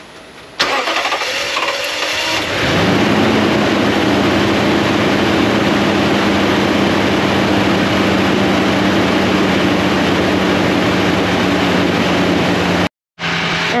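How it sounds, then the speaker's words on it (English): A car engine cranks briefly, fires and settles into a loud, steady high idle around 1300 to 1400 RPM, running on alone with no talk; the vehicle's owner reported slow cranking and a low idle. "What we're going to hear is, we're going to hear a very, very high idle."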